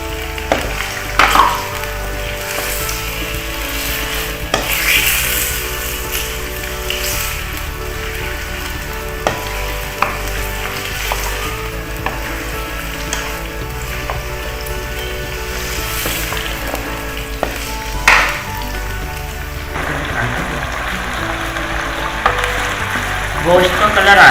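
Meat sizzling and frying in a pot for degi aloo gosht, a steady close hiss with occasional stirring scrapes and clinks throughout, no talk.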